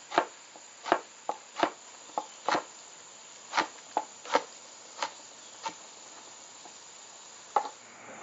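An onion and a pepper being chopped on a board, with about a dozen sharp, separate knife knocks at an uneven pace, close and fairly quiet against a faint background hiss.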